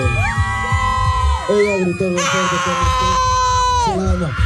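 A crowd of students shouts and screams as loudly as they can to win a mug, shrill sustained yells and whoops rising and falling in overlapping waves, close and very loud.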